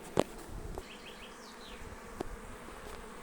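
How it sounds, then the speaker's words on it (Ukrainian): Continuous low hum of numerous honey bees at a hive entrance at close range, with a few sharp clicks and faint high chirps over the buzzing. "принципі, бджола працює. Дивіться, як вентилюють."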